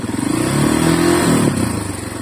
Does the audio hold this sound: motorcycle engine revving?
yes